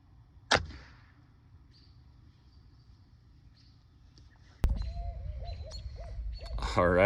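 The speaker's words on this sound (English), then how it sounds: "the owls out here in my backyard are going nuts" Owls in backyard pines hoot in short, distant repeated calls over a quiet night, with a sharp crossbow shot early on and louder rustling and handling noise near the end.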